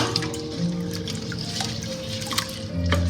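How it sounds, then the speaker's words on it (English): A wet chicken mixture with carnation milk is stirred in a bowl, giving close, continuous liquid squelching and sloshing with a few small drips, and no voices. "Now I'm just going to give it a stir,"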